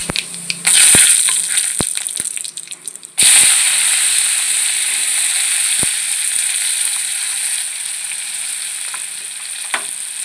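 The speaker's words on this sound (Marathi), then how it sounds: "वरणाचीच कढई आहे, त्याच्यामध्ये आपण तडका देतोय" Tadka of spices sizzles loudly in the same kadhai used for the dal, a bright steady hiss that flares up twice with a few light clinks, with no talking.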